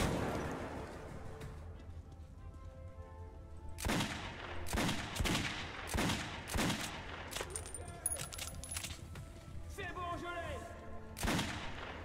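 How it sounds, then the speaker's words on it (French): Gunfire from a shotgun in the post-apocalyptic shooter Metro, with a string of sharp, loud blasts spread across the clip over low game ambience and scattered background sounds. "Il est sympa ce fusil à pompe."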